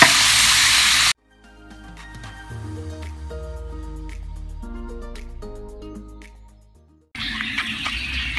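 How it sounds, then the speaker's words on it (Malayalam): Vinegar poured into a hot brass pan of dried fish pickle gives a loud, close sizzle in two bursts, one at the start and one at the end, with soft melodic music playing in between. "ഇനി നമുക്ക് ഇതിലേക്ക് വിനീഗർ ഒഴിച്ച് കൊടുക്കണം."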